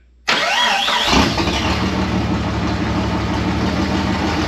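Car engine with a misfire cranks briefly, catches and settles into a loud, rough idle close by, running unevenly for several seconds with no one speaking.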